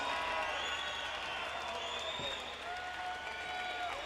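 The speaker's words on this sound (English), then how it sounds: "How about one more round of applause?" Steady applause from a fight crowd after a hard-fought five-round bout at a Front Street Fights event, a dense clapping wash lasting the whole moment without a break.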